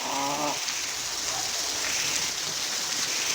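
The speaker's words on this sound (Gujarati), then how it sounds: "સરસ મજાનો વરસાદ પડી રહ્યો છે" Torrential rain in Lathi, with about four inches falling in an hour, makes a loud, continuous wash of hissing downpour; a brief voice sounds faintly at the very start.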